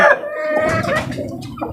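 Pet chickens cluck close by while feeding, short loud vocal notes over a busy low rustle.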